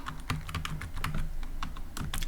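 Quick, uneven clicks of keys being typed on a computer keyboard, close and fairly quiet, with no voices.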